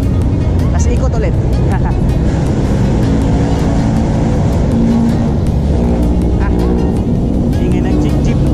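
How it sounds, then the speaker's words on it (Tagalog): A jeepney engine roars continuously as it races along a Manila road, loud and close, with heavy traffic rumble and wind filling the scene. "Ingay ng jeep, kakarera pa."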